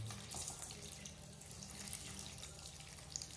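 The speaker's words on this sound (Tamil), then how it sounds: "இப்போ வந்து பாலை ஊற்ற போகிறேன்" Milk is poured into a cooking pot in a home kitchen while making Madurai-style ayirai fish curry: a steady, continuous liquid stream, fairly quiet and close, with no talking.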